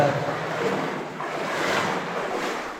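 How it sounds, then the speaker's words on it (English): Steady sloshing and splashing of about an inch of water around the feet in an abandoned mine, a close, continuous wash of noise with gentle surges and no speech. "You're walking at just about an inch of water."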